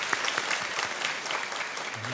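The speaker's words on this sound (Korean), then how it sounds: "우리 하나님께 감사의 박수 올려드리겠습니다" Congregation clapping during a Korean church's special autumn dawn revival service, a fairly quiet, steady patter of hands over about two seconds with no voices on top.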